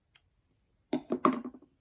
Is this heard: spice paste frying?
no